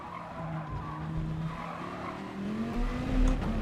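A race car in GT Sport at Spa brakes hard into a corner, its tires squealing in a rising, drawn-out screech over the engine note, loud and close.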